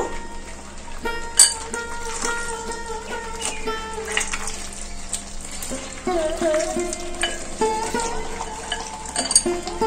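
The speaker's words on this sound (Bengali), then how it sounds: "এই মাটনটা মশলার সাথে খুব ভালো করে কষাতে হবে।" Mutton sautéed with spices in oiled pan, a continuous sizzle with stirring scrapes, while a musical tonal background plays throughout.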